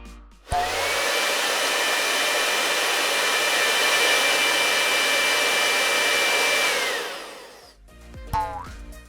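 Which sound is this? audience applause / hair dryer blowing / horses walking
hair dryer blowing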